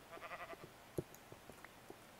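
A sheep in a Minecraft-style game bleats in a short wavering burst, followed by faint scattered clicks and soft in-game sounds, quiet and with no talking.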